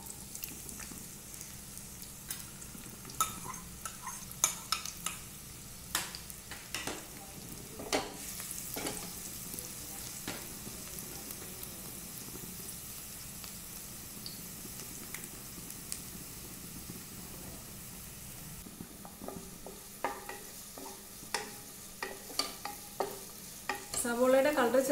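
Onions fry in olive oil in a hot kadai, a soft, steady sizzle broken by repeated spatula stirs and scrapes, close and fairly quiet, with no talking.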